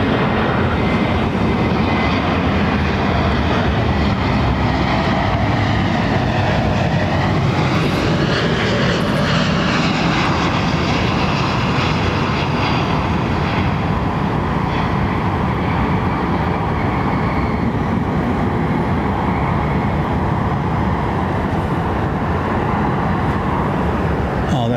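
Aircraft circling the field at London Heathrow Airport ahead of a runway inspection, a loud continuous engine roar that swells slightly midway and holds steady throughout.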